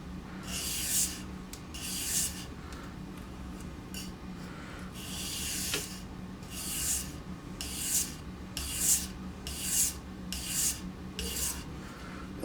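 Knife sharpening strokes on wet/dry sandpaper lubricated with Windex, a convex edge being worked by hand: about a dozen rhythmic rasping passes, each a short bright scrape with brief gaps between, close and fairly quiet, no talk.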